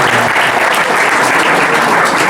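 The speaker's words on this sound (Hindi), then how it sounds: "जोर से ताली मारिए।" Loud clapping by a church congregation during a Hindi service, a close, dense burst of many hands clapping steadily throughout.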